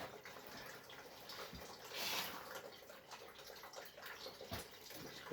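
Fluid drains from a Mercedes 124C in a faint, steady trickle with occasional drips, quiet and close against low background noise.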